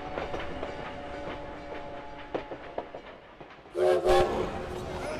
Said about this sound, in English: At the train depot in Paris